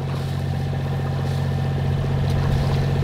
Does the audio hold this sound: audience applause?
no